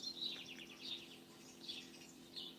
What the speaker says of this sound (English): the bird song